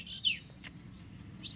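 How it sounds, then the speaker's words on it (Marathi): Sparrows give bright, high-pitched chirps in a few quick bursts over a low steady background hum, fairly close, in the morning. "चिमण्यांचा कसा चिवचिवाट चालला आहे"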